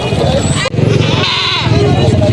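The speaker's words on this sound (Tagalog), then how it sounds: "Mga malalaking mga kambing. Binebenta pa dito." Large goats bleat loudly and close by at a livestock market in Padre Garcia, Batangas, several wavering cries overlapping with someone talking.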